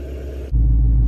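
Ford Shelby GT500 Sting Mode, a 1200hp car, giving a deep low engine rumble that swells suddenly halfway through and holds loud and steady, no talking.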